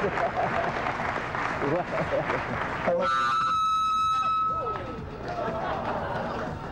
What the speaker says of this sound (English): Give him some loving applause here.